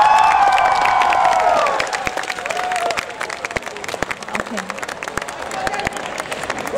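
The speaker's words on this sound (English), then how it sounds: "I think they deserve another round of applause" An audience at a cosplay competition applauds and cheers loudly, the crowd's clapping swelling at first then thinning into scattered claps, while a voice speaks briefly over it.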